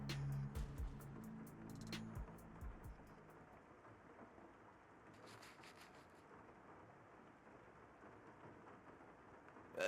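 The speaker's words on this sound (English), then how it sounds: "It's raining? Oh, I like the rain." Steady rain in the Master Detective Archives: Rain Code video game, a faint, continuous hiss with distant low rumbling and a few scattered taps, and no voices.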